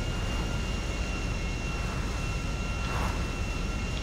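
A propeller aircraft engine in GTA 5 drones continuously and loudly, a dense steady roar that fills the whole clip with no breaks.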